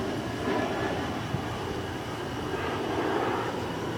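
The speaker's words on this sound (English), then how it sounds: "Record the plane. Look how close that is." A low, broad airplane engine roar flying close overhead outdoors at night, holding steady and loud for several seconds with a slight swell, alone without talk.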